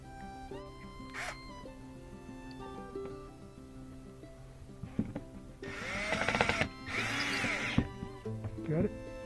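A power drill drives screws into the rear bumper of a third-generation Toyota Prius, giving two short close whirring bursts after some quiet handling noise, with people talking nearby.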